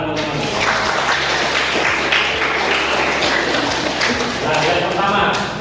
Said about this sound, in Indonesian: Mohon tepuk tangan teman-teman.